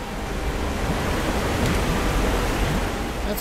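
Continuous rushing water echoing inside a cave in Rise of the Tomb Raider, a steady broadband wash with no distinct splashes, heard on its own.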